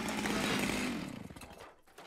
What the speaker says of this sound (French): Je n'entends rien, c'est couvert par le bruit de la tronçonneuse!